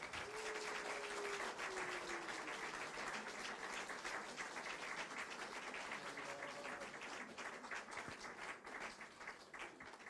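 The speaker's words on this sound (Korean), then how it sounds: "박수." Congregation applauding during a church ordination and retirement service, steady even clapping for about ten seconds, with a faint voice tone early on and near the middle.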